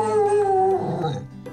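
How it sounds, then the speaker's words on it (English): German Shepherd trying to bark with a toy held in its mouth, producing a single muffled, drawn-out howl-like whine that bends downward and trails off, close and loud. "he tends to walk around with his toys in his mouth trying to bark"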